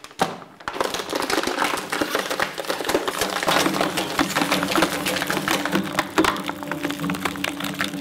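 A plastic shredder grinds through pieces of ABS, polypropylene and polyethylene, giving a loud continuous clatter of cracking, snapping chips over a low motor drone, heard up close without speech.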